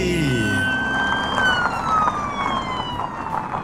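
A police car siren wails loud and close, its pitch sweeping steadily up and down in a continuous rising and falling tone.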